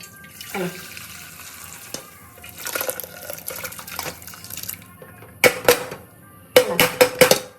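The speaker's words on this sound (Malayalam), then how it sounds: "ഈ ചരുവത്തിനകത്തോട്ട് ഈ കുക്കറിൽ നിന്ന് ഈ വെള്ളവും ബീഫും ഒഴിക്കുകയാണ്." Water and cooked beef poured from a pressure cooker into a pot, a splashing liquid pour followed by bursts of clanking and sloshing as the last of it goes in.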